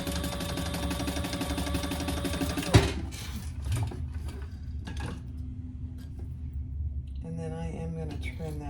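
A domestic sewing machine stitches pouch fabric at a quarter-inch seam: a loud, fast, even mechanical whir for the first few seconds, then a clunk and quieter handling and rattling.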